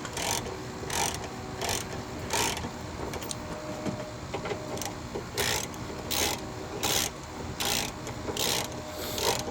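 Hand ratchet running down bolts on a 2008 Mazda Tribute's CD4E transmission: repeated bursts of fast clicking with short pauses between, fairly close and moderately loud over a low background rumble.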